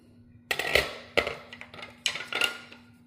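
A spoon scrapes and knocks around a pot of slow-cooked carne guisada with thickened gravy, giving a few spaced clanks and scrapes at close range, with no talking.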